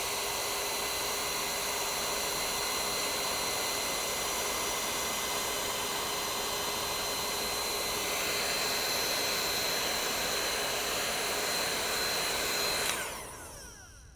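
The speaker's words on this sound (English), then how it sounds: "I might have to get a new heat gun because it's smoking." A heat gun blows hot air onto paint protection film, a loud continuous hissing rush with a faint whine, steady for about thirteen seconds before cutting off and fading.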